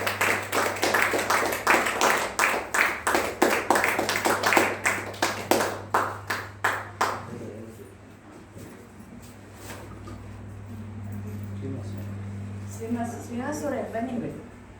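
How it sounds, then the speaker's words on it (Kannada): An audience at a book launch of Girija Deshpande's works at Maatina Mane claps in a strong, regular unison rhythm for about seven seconds. The clapping then stops, leaving quiet room hum with some faint voices. "ಇನ್ನು ಸ್ವಲ್ಪ ಜೋರಾಗಿ ಚಪ್ಪಾಳೆ ತಟ್ಟಿದ್ರೆ ಅವರಿಗೂ ಕೂಡ ಅದು"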